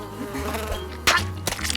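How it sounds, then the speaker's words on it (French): Cartoon mosquitoes buzzing in a house, a continuous thin insect whine over a low hum, with a couple of sharper bursts near the end. "il y en a marre de ces sales moustiques"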